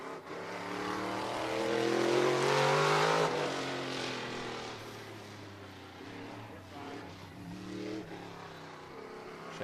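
Race car engine roaring on the dirt oval at Auburndale Speedway in Florida, the outlaw car swelling loud as it drives through turns 3 and 4 and then easing off, a continuous broad drone.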